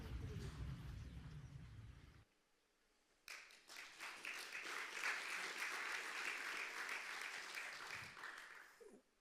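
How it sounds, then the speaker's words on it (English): Audience applause during a church sermon, with a brief quiet gap of about a second before clapping swells back in and holds fairly strongly, tapering slightly near the end. "thank you for clapping"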